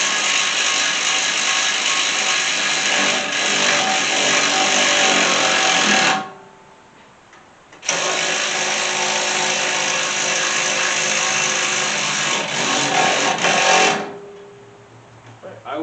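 Power tool driving the two strut bolts on a 2012 Mustang GT, two sustained loud whirring bursts of about six seconds each, separated by a short pause and followed by a quieter tail.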